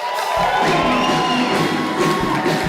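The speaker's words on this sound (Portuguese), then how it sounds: "Uma salva de palmas para esse cara." A crowd cheers and whoops loudly, with applause and shouting building and holding across the whole moment.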